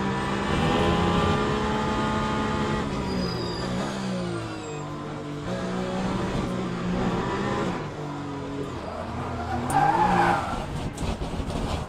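Race car tyres squeal and skid in the Le Mans Ultimate sim racing game, with long screeching slides riding over a steady, droning engine note that rises and falls through the corners.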